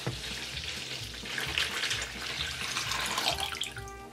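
Water from a tap runs steadily into a toy baby bathtub, a continuous close splashing stream without any talking.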